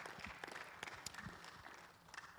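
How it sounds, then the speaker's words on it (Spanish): A church congregation applauds during a service, with a faint, steady patter of many hands clapping that sounds distant. "Give a lot of applause to the Lord for His word."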